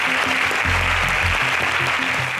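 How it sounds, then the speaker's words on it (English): Audience applause fills a quiz show studio at the Brightest National Agric Science Quiz Contest, a steady broad wash of clapping with a deep low hum swelling briefly beneath it. "Can we give her a round of applause?"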